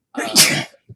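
A single sharp sneeze bursts out close by during a Dungeons and Dragons tabletop session, loud and breathy, followed by a brief faint sound just after.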